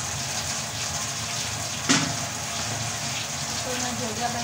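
Running water pours steadily while hands are washed at home, a continuous close splashing hiss with a brief sharp clatter midway.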